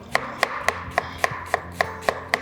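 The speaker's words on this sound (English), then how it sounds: "now we're gonna slice up some white onion" A knife thinly slices white onion on a cutting board, with about ten sharp, evenly spaced close chops in a steady quick rhythm and no talking.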